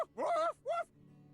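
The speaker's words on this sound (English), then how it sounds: "Who did these dog noises?" Dog barks and whimpers from the video game Date Everything!, two short, close, voiced yelps with a whining, groaning tone, separated by a brief gap, over a low steady game hum.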